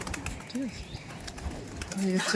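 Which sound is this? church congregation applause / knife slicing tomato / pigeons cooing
pigeons cooing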